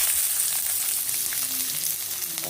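Chopped onion dropped into hot oil with cumin and curry leaves, frying with a dense, even hiss that stays close and steady throughout, with no voices.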